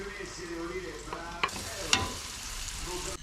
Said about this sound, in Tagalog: Nagisa na natin yung kamatis